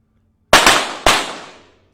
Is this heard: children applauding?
no